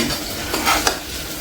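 Food sautéing in a home kitchen pan, stirred with a utensil: a steady soft sizzle with a few brief scraping stirs rising above it, close and moderately loud, no voices.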